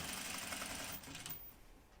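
A sewing machine hums with a quick, even run of stitching as it sews a bias facing onto a garment neckline, quiet and close, fading slightly toward the end.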